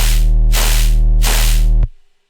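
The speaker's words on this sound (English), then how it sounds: "this initial oscillator, which is just a sine wave, but it's running into this really resonant band pass filter" A synth sine wave oscillator runs through a highly resonant band-pass filter, producing a loud, buzzy sustained tone with three rhythmic swells of brightness before cutting off abruptly and ringing briefly.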